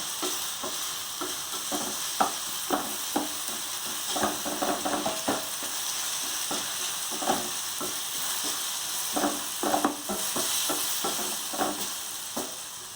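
Tomatoes sauté in a pan for tomato poha, a steady sizzle running throughout with frequent scraping clicks of a spoon stirring against the metal, close and fairly loud.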